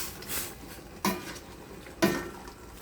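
Bamboo shoots and jute leaves with okra being stirred in a pot for dinengdeng, with two sharp utensil knocks against the pot about a second apart over soft scraping, close and fairly quiet.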